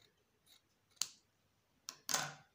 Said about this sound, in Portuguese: deixo o tecido bem retinho e vou cortar